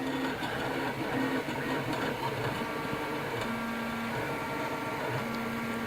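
Robin 3D printer fitted with a new extruder, printing at 0.2 mm layer height: faint, steady mechanical hum with intermittent stepper-motor tones rising and stopping in short runs, no talking.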